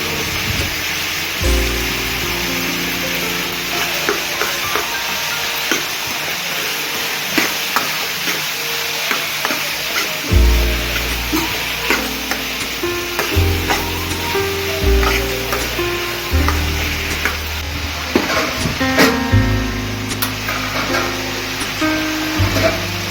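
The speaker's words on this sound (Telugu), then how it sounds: "ఇప్పుడు టమాటాలు వేసుకొని బాగా కలుపుకుందాము." Tomatoes sizzle and fry in a hot pan while being stirred for a sour eggplant and raw mango stew, with steady loud sizzling broken by repeated scraping and clanking of the spoon against the pan.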